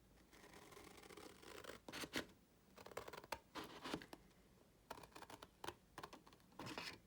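Scissors cutting sections out of paper for a 5 1/2 x 7 1/2 mini album, quiet close snipping and scraping in irregular bursts with short pauses between cuts.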